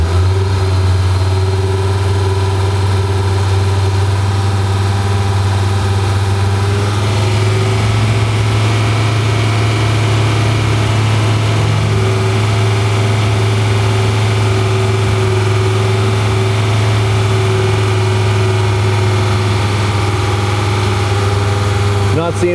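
A car engine is held at a steady 2500 RPM to heat a catalytic converter, a loud continuous drone with a constant low hum throughout and no break.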